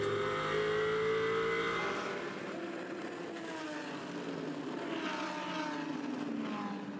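Mercedes and Bentley GT race cars charge along the track in a 2021 GT World Challenge Europe Sprint Cup race, their engines roaring loudly as they pass, with rising and falling pitch.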